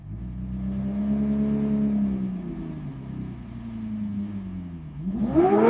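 A Lamborghini Temerario hybrid engine revs hard toward 10,000 RPM, pitch rising and sweeping in long waves, dipping at about two seconds and then climbing again into a sharper high-revving surge at the end, loud and close.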